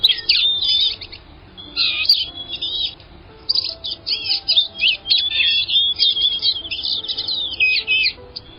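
A blue-gray gnatcatcher gives scratchy, intense calls and thin buzzy song phrases, close and clear in repeated bursts against a quiet background.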